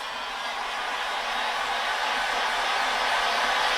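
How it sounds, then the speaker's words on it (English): A heat gun blows steadily while warming the front of an insole footbed, a continuous close airy roar that holds level and slightly strengthens over a few seconds, with no talk. "I'm going to use a heat gun to heat just the front part of the footbed"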